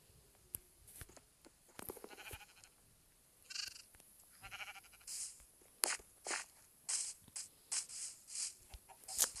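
Minecraft sheep bleat in a series of short, bright synthetic cries spaced a second or so apart, with faint footstep-like clicks between them and no talking.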